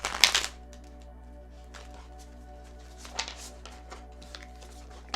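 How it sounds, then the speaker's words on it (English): Tarot cards being shuffled by hand give a short burst of crisp riffling at the start, followed by scattered soft taps and card slides over a steady low background hum. "Shuffle the tarot."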